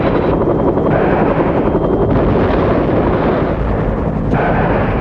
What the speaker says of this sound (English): The aerial rocket artillery helicopters were also ready to attack.